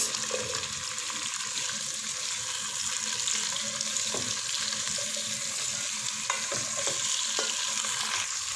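Carrots, capsicum, peas and potatoes for veg fried rice fry in a pan with a loud, steady, close hiss that never lets up, broken by a few faint clinks.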